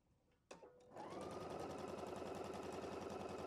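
After a couple of clicks, a sewing machine starts up and runs a fast, even stitching rhythm while chain piecing quilt block pieces, close and steady throughout.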